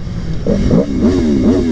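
A motorcycle on its stock exhaust revs in rising and falling pulls, a loud and close engine note that climbs through the RPMs with no one speaking.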